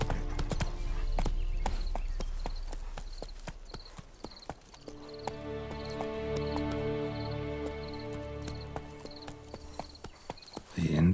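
Roach the horse's hooves clatter in The Witcher 3: Wild Hunt, quick clopping beats over ambient game music, fading as the rhythm slows and the music swells.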